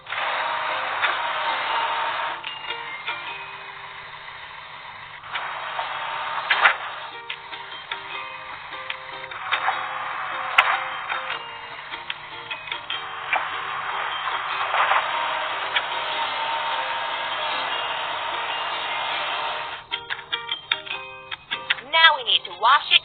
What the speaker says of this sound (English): Digging machine.